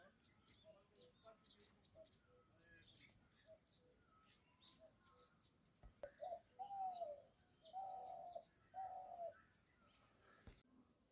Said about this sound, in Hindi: सामने तार में पहाड़ की प्यारी पंछी घुघती बैठी हुई है, जो गा रहे है कि घुघती घूर घूर